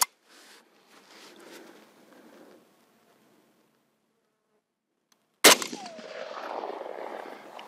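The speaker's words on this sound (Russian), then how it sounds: "Делаю выстрел в черную точечку." A single sharp, loud shot from a Saiga-308 rifle with a 555 mm barrel rings out after a few seconds of quiet, followed by a lingering echo and some faint background noise.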